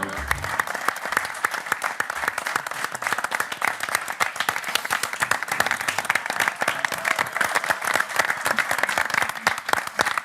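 A studio audience applauds Malvinas war veterans on the Day of the Fallen in the Malvinas War: dense, continuous clapping that stays loud and even for the whole stretch, with no voice rising above it.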